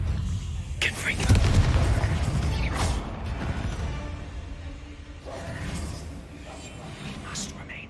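Confringo fire spell cast in Hogwarts Legacy, a heavy booming burst with a swooshing tail and mechanical creaks, loud and close, with a voice speaking over part of it.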